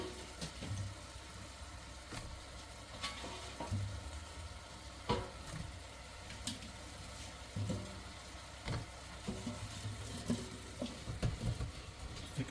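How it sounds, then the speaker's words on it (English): Potatoes sizzle in a pan with soy sauce and butter, a steady crackling fry broken by repeated clanks and scrapes as they are tossed and stirred, close and fairly quiet, with no talking. "Stick all your potatoes in the pan. And just toss them through"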